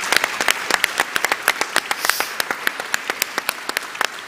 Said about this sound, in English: I want to give them a round of applause too for all that